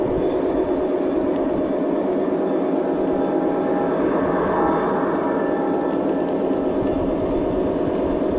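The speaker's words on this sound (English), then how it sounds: "especially the sounds of the passing trains" Continuous rumbling clatter of model trains passing each other outdoors on a lawn, a loud, steady rush of wheels and rail noise that stays constant throughout, with no talking.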